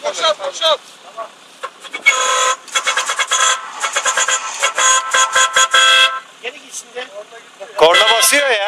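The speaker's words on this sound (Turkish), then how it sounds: "Korna basıyor ya." A car horn honks in repeated bursts, some long and some short, while people in the car talk over and between them.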